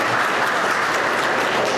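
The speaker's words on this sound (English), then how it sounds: "So we're going to give Casey a round of applause" A round of applause for Casey: a brief, steady wash of many hands clapping at once, close and loud, with no talking.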